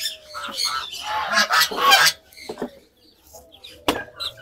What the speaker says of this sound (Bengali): এগুলো হচ্ছে সবগুলোই সাদা চীনা হাঁসের বাচ্চা